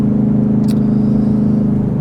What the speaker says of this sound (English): I'm actually driving up a hill right now too